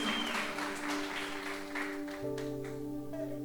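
A church congregation claps at a worship gathering, a dense continuous wash of applause over sustained keyboard chords that shift in pitch partway through.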